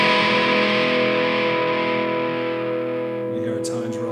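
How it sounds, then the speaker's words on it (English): Electric guitar chords on a TE-style kit-build guitar, played through the bridge pickup with distortion, ring out loud and sustained, decaying slowly before a brief new strum near the end. "And we just test the different pickup positions on this guitar."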